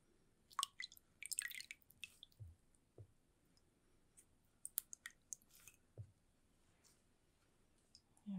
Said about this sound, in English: Start out just dipping this in a bit of water.